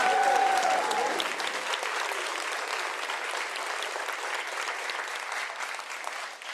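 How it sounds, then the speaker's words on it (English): An audience at a pitch competition finals celebration gives a hearty, sustained round of applause, full and even throughout, with a brief tonal sound at the start. "now you can give them a very hearty round of applause"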